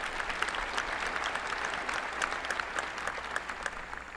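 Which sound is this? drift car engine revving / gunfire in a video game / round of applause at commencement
round of applause at commencement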